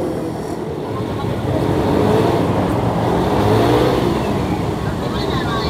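A car engine runs near a roadside coffee shop in Sembahe, swelling as the vehicle pulls away before easing off slightly, with a steady rumble and traffic-like noise and faint voices in the background.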